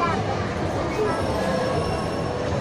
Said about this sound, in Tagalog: Masarap sumakay sa train.